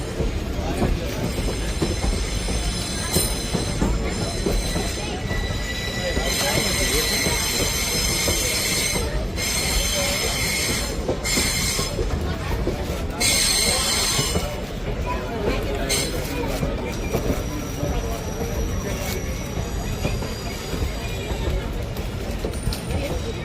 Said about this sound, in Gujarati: જો મસ્ત ગાડી વળે છે.